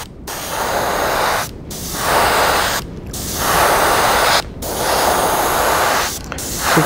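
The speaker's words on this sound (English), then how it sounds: "What I want to do with this is spray the back pretty well." Paint sprays onto the back of a shad fishing lure in five steady hissing bursts, each a second or more long and separated by brief pauses.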